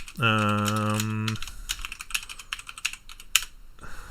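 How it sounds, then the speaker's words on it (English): Fingers tapping on a computer keyboard while running a Warhammer Fantasy Roleplay 2nd Edition session, an irregular patter of light clicks following a brief tonal chime at the start, close up with no talking. "I'm, by the way, typing all of this"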